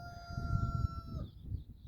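A rooster on a farm property with chickens gives a single drawn-out crow, faint and distant, over a heavy low rumble of wind or background noise.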